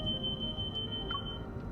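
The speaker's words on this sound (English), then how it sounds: "accompanied by the threshold beeping from my watch" In the video game Love & Deepspace, a watch emits a steady high-pitched beep tone that holds for over a second before cutting off, over a low background hum.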